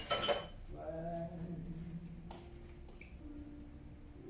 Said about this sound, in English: I'm going to cover my pot for a moment